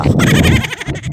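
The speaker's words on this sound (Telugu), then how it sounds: "దూడ దూడ" A buffalo calf gives one drawn-out, wavering bleating call, loud and close by.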